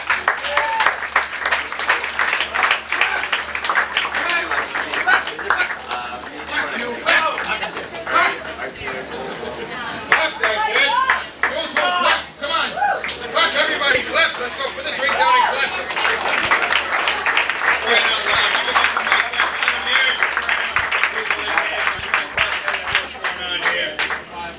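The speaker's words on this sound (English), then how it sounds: "Let's have a big round of applause for Mr. Mike Jackson." Comedy club crowd at the Brass Rail applauding comedian Mike Jackson, long loud clapping with cheers and chatter mixed in, and voices talking over it as it gradually thins.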